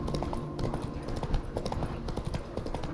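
Horse hooves clip-clop in a steady, brisk rhythm from a mount ridden through The Witcher 3 video game world, close and clear over faint ambient background.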